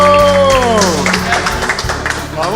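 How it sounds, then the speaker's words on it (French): People clap for Marilyn during a gathering on a French farm dating show. Moderate, fairly close applause runs under voices and a falling tonal sound, then thins out toward the end. "s'il vous plaît, on l'applaudit."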